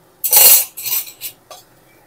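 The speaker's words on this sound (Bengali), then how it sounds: "তেলটা ঝারিয়েই তুলে নেব।" Fried potato pieces lifted out of hot oil with a metal spatula, giving a loud scraping clink followed by two or three shorter metallic scrapes and taps against the pan as the oil drains.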